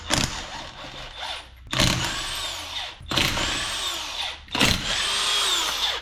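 Power tool undoing the wheel nuts on a Jaguar XFR, with four rising, whining bursts of the motor separated by short pauses, loud and close.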